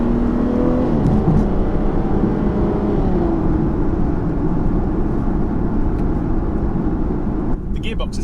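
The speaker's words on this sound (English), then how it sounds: "Pop into sport mode and let's see what this thing can do." A 2014 Aston Martin Rapide S in sport mode accelerates hard, its engine drone building steadily and loudly from inside the car, while someone talks over the sound.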